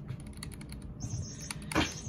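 Keystrokes on a Keychron K7 65% slim low-profile keyboard, a steady run of quiet, close clicky taps with one louder clack near the end, no voices.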